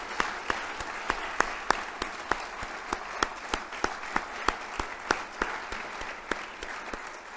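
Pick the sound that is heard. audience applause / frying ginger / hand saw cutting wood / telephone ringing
audience applause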